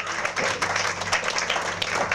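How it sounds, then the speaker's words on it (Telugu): A church audience claps after a Christmas nativity play at a Baptist church in Santoshnagar, Hyderabad. The applause is a dense, steady patter throughout, with a few voices mixed in. "ఒకసారి అందరికి కూడా గట్టిగా చప్పట్లు కొడదామా?"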